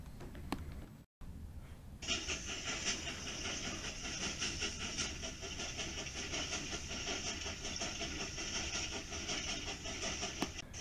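Diesel locomotive train running steadily with a loud, continuous rumbling engine and rolling rail noise, starting abruptly after a brief quieter moment and holding close and full throughout.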